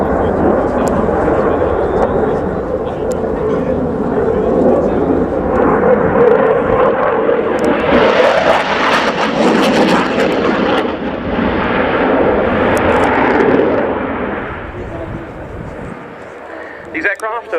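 A French Air Force Dassault Rafale C jet roars at the RIAT 2016 airshow, its engine noise swelling to a loud peak mid-clip and then fading, under continuous commentary.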